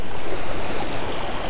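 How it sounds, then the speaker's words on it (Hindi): River water rushes loudly and continuously beneath Raikot Bridge, a dense, unbroken roar heard close by. "इस वक्त देखें ये पानी का शोर है ये"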